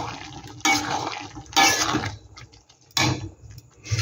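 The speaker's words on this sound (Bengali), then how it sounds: "এখানে আর একটু জল দিয়ে দেবো আমি।" Water pours into a cooking pot of ghugni over a spiced masala base, coming as several splashing gushes with short gaps between them and no talking.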